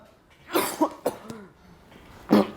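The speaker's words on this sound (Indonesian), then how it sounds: "Batuk, Pak." Several harsh coughs from a person, close and fairly loud, in a short irregular burst followed by a pause and one more cough.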